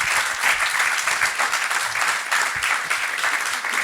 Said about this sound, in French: on peut peut-être applaudir Alan Sacha-Brun et Susanna Parenti